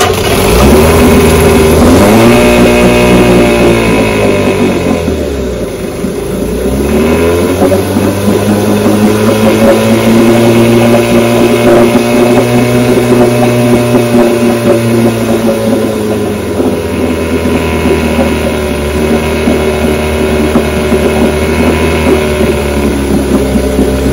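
An outboard boat motor with a fault that keeps it from staying running starts up and runs loudly and close, its engine pitch rising and dipping as it revs, settles, revs again and keeps going.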